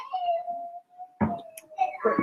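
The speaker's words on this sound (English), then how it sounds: "I do hope the whining children in the background is not too loud for you guys" A drawn-out, high whining voice wavers on and off nearby, broken by short bursts of child-like vocal noise.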